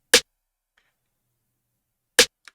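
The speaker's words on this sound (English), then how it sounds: "For the drums, we have snare" Layered snare drums in a trap beat: two sharp, loud cracks about two seconds apart, each standing alone in silence, followed by a softer short tap.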